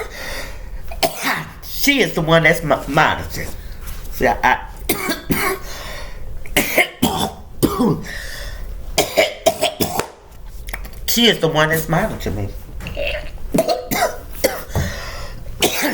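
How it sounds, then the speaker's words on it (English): A person coughs repeatedly in short, harsh bursts that break up and mix with their own steady talking, close to the microphone. "Y'all see I'm coughing on my own."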